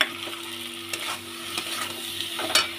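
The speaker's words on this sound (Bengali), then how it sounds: "এই মশলাটা দিয়ে আমি ভালো করে কষিয়ে নেবো" Ground spices stir-frying in oil in a pan for a fish-head and potato curry, with constant sizzling broken by a few spoon scrapes, close and moderately loud.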